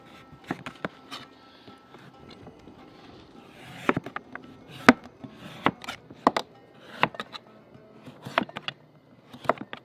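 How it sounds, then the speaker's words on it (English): A knife peels and chops a pumpkin on a cutting board, sharp irregular knocks and scraping strokes close up with quiet gaps between them. "Now I'm gonna peel the outside."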